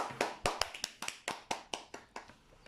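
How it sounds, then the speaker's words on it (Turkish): A few sharp, separate claps from a children's class ring out close by in an irregular rhythm, about a dozen in all, tapering off toward the end. "Bravo alkışlayın"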